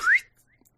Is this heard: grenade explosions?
no